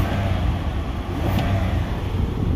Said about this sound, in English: I'll rev it up for you so you can hear the engine.